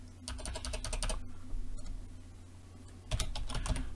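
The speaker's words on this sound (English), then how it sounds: "I'm going to type in Beth." Quick bursts of typing on a computer keyboard, with clustered clacking keystrokes, a short pause in the middle, then another flurry of keys, heard close and alone.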